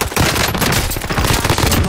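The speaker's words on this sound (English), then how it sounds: "hostile fire" Dense hostile gunfire rattles in the video game Call of Duty Warzone, loud overlapping automatic bursts filling the whole stretch without a break, no voices.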